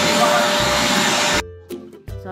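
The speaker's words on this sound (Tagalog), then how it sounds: "maingay yung vacuum" A vacuum cleaner runs loud and steady with a broad whooshing roar, then cuts off abruptly partway through, leaving brief sounds that may be a voice.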